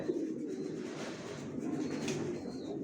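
A pair of white racer pigeon chicks, leg-tagged and moulting, coo softly and continuously in a loft, with steady low murmuring over a faint background hiss and no talking.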